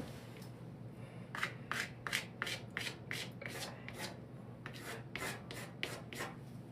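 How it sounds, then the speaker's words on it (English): Something is sharpened by hand while fur texture is being made, giving a series of short, quick scraping strokes in an even rhythm, fairly faint and close, with a brief pause midway and no talk. "I'm just sharpening something right now."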